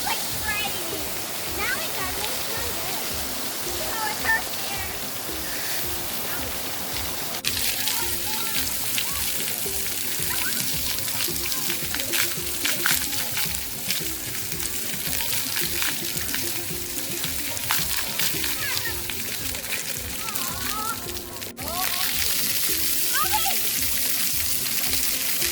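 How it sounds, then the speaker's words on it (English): Strong, high-pressure water sprays and splashes steadily in a dense, loud hiss throughout, with voices talking and exclaiming over it. "Because the water is so strong."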